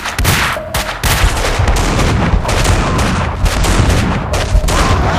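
Dense, continuous gunfire from the video game Max Payne 2 fills the scene, with rapid overlapping loud shots and booming impacts that leave no quiet gaps.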